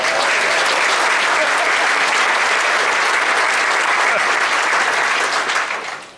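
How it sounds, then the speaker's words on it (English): A large audience at a county state-of-the-county gathering breaks into loud, sustained applause for a birthday, the dense clapping holding steady for several seconds before tapering at the end. "let's give him another round of applause for his birthday"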